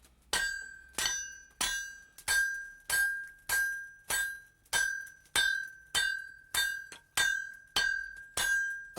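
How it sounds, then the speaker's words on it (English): A hammer strikes a hot metal blade on an anvil in about fourteen evenly spaced, ringing metallic blows, each with a bright clang that quickly fades before the next. "Just hold it flat against the anvil. Yeah. And hit with the hammer."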